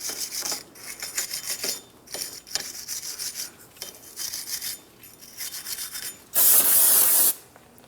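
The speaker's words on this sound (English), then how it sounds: "Use some parts cleaner and a wire brush." Wire brush with parts cleaner scrubbing the wheel bearing hub surface of a 2004-2008 Pontiac Grand Prix, repeated rasping strokes in rhythmic bursts, closing with a loud hissing spray blast.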